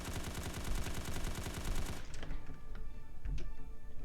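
Rapid automatic gunfire from a gun in the video game Dread: a dense, loud burst of shots for about two seconds, then scattered single cracks and distant reports trailing off.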